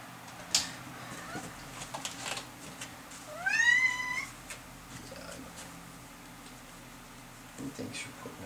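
A pet cat lets out a single drawn-out, rising-then-falling meow in a quiet room, with a few faint clicks and soft background murmurs around it.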